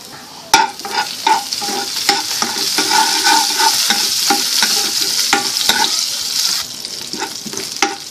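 Finely chopped garlic sizzles in hot oil in a pan over a medium flame for Bombay potatoes, a steady loud crackle broken by sharp clicks and scrapes of a spoon stirring.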